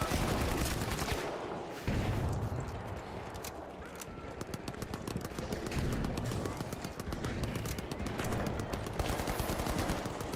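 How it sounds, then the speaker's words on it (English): A turret fires in the video game The Outer Worlds 2, rapid automatic bursts rattling on loud and close for several seconds with only brief pauses. "Turns out the turret's actually working pretty well."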